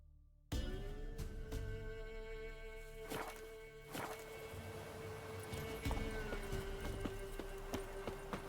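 Roach, a horse in The Witcher 3, breaks into a gallop after a moment of silence, hooves thudding in a continuous rhythm with a few sharper knocks, close and over in-game music.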